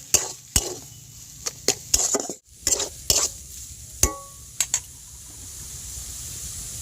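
Spiced potato filling with cumin and coriander powder being stirred in a pan, sharp metallic scrapes and taps of a spatula striking at irregular intervals over a low, soft sizzle, close and with no voices.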